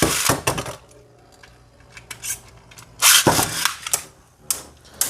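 Beyblade tops, one a Mirage Fafnir, launched into a plastic stadium and clashing, with sharp metallic clicks and impacts in bursts and a louder cluster near the middle, close and without talk.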